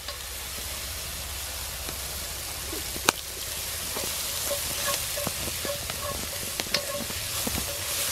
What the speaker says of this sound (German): es ist jetzt Zwiebel und Knoblauch, dann kommt das Hackfleisch dazu und ein bisschen anbraten, anschwitzen